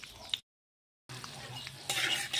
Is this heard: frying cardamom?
yes